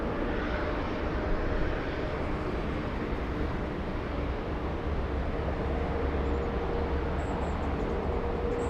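Boeing 787 Dreamliner jet taking off at Los Angeles airport, a steady, broad engine roar holding at moderate, fairly distant level throughout without any voices.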